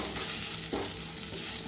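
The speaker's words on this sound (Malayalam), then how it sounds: "ഇത് നന്നായി ഇളക്കി കൊടുക്കണം." Masala for chicken stew sizzles gently over a low flame as a spoon stirs through it, a soft continuous hiss with a faint scrape of the pan, close and steady.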